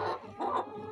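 A brooding hen sitting on eggs gives a few low, throaty clucks up close, short and grumbling, within about a second.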